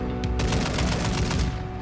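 Fast, close bursts of automatic gunfire from bots and players in Call of Duty Warzone 2.0, sharp cracks rattling in quick succession over a brief moment.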